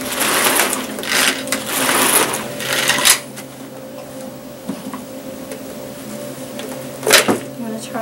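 A Tupperware Power Chef's pull cord is yanked repeatedly to mix homemade peanut butter, giving a series of close whirring, ratcheting pulls in bursts with short pauses between them.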